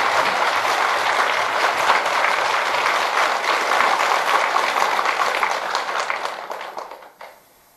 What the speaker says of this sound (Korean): 우리 정환선이 박수 한번 쳐주세요